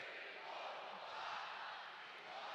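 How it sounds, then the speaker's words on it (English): A college hockey arena crowd counts and chants at the opposing goalie, a broad, even roar of many voices, steady and fairly distant throughout. "As the crowd counts to 5 on the goals and sets their little chant towards Cowan, the goalie"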